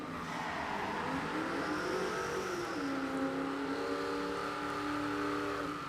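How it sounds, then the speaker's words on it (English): Supercharged Mercury Cougar drag car at a no-prep drag strip, its engine revving and rising in pitch then holding a steady heavy drone, heard from some distance with no voices. "when was the last time you saw a Mercury Cougar with a massive supercharger on the drag strip?"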